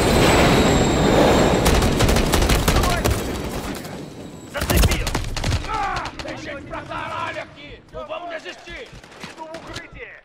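Heavy rapid gunfire bursts in Modern Warfare 3 dominate at first, then thin into scattered shots as tonal game sounds and a voice come through.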